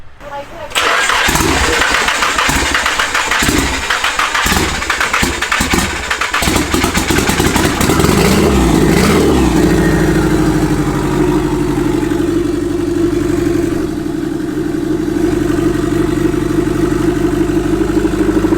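Swapped SR20DET engine in a Nissan S13 coupe with no downpipe cranks and fires up, revving loud and raw before settling into a rough, throaty idle, with excited voices in the background.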